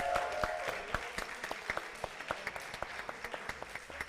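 A small crowd at a Smash Bros grand final event in Purmerend claps for the venue staff, a soft, fairly distant patter of applause with distinct individual claps picking out a loose rhythm as it thins.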